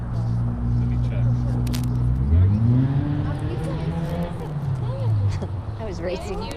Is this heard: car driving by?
yes